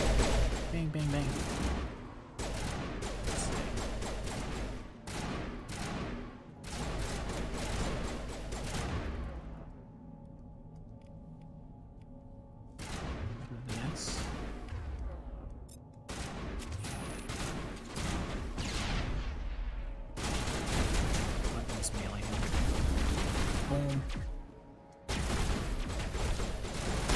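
Repeated rifle gunfire in the video game Mass Effect Legendary Edition, with dense bursts of shots and explosions across most of the stretch and a brief quieter lull in the middle.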